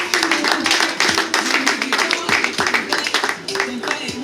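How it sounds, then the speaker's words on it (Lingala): Applause and clapping from wedding guests after the civil officer signs at a marriage ceremony, a dense steady patter of many hands with voices and cheers mixed in throughout. "On peut m'applaudir?"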